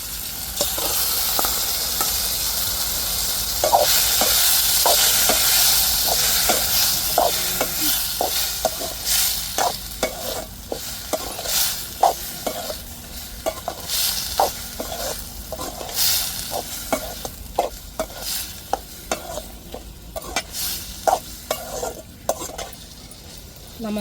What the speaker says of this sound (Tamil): இப்போ நம்ம நல்லா வதக்கி வச்ச இறாலை சேர்த்துக்கிடுவோம்